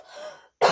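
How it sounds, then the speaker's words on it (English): A single short, sharp cough bursts out close to the microphone after a moment of near silence, brought on by dust. "I'm going to have to end this video because I am coughing a lot."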